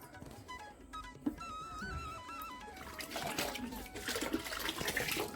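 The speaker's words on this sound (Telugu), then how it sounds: "వేడి నీళ్ళు పెట్టాను వాడు బెడ్షీట్లు జాడిద్దామని ఇందులో పెట్టేసి జాడించేస్తే" Bedsheets are rinsed in a container of hot water at home. Soft trickling gives way to louder, continuous sloshing and swishing of water, with a voice talking quietly at the start.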